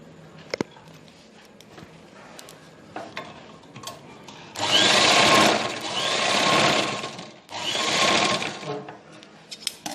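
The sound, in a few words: sewing machine stitching cloth pieces for cosmetics bag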